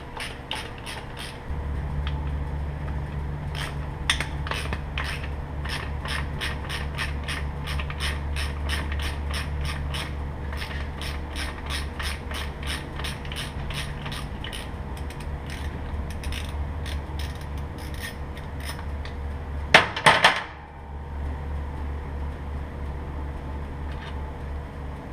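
A socket ratchet loosens the clutch cover bolts on a motorcycle, giving a long run of steady, close clicking strokes over a low hum, with a brief louder clatter near the end.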